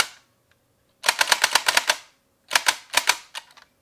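Super Jolt light gun firing with heavy recoil, loud clattering bursts of rapid mechanical clacks in two rapid-fire volleys separated by a short pause, close and alone.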